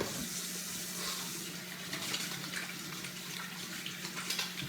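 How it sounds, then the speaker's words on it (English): Hands being washed under a running tap, a steady hiss and splash of water falling into a sink with small irregular splashes from hand movement, close and without speech. "Wash my hands."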